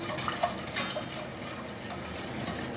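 Homemade béchamel thickens in a pot as it is stirred to keep the roux from sticking, soft scraping and light metallic clinks over a quiet background hiss, close and low in level with no talking.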